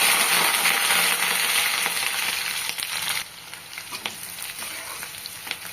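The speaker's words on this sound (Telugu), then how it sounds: "ఆయిల్ హీట్ అయ్యాక ఉల్లిపాయ పచ్చిమిర్చి వేసేసుకోవాలి" Onions and green chilies frying in hot groundnut oil in a kadai, a loud steady sizzle that eases off partway through, with faint stirring scrapes.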